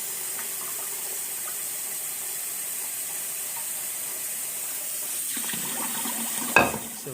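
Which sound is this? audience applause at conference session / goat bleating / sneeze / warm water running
warm water running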